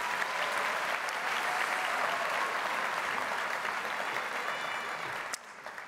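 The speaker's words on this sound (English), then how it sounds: "Another round of applause, please, for our singers." A crowd cheers the singers at a high school commencement with sustained applause, dense and even clapping from a large audience that fills the room before cutting off near the end.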